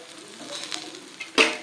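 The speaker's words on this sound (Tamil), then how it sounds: "இப்போ இதுக்கு சுற்றி தாராளமாக எண்ணெய் விடணும்" Oil is poured around a cabbage adai in a hot pan as it fries. A steady, soft sizzle runs throughout and ends in a sharper burst of crackle, close by and with no voices.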